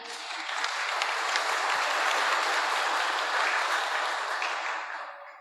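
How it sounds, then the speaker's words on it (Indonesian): Warm audience applause fills a hall at a cultural talk show on preserving Temanggung traditional arts in Central Java, a dense, steady clatter of many hands lasting about five seconds before tapering off at the end. "Boleh kasih aplaus meriah?"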